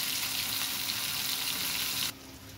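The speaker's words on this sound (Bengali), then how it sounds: "ভেজে নিচ্ছি সুন্দর করে" Food fries in a pan while preparing a lentil dish with potato and tomato, a steady close sizzling hiss with no voices that drops away sharply near the end.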